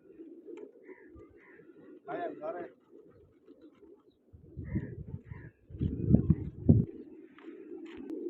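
Soft pigeon coos repeat nearby, mixed with a person's voice and some handling noise, growing louder toward the end.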